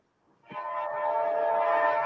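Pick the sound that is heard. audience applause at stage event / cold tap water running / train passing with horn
train passing with horn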